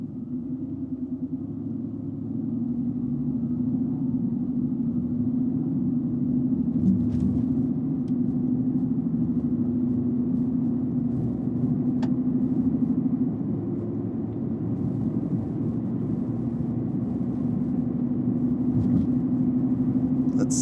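A 2018 Mercedes-AMG GT R engine gives a steady, close, low rumbling drone that holds fairly even throughout, with no distinct gear shifts standing out and no talking.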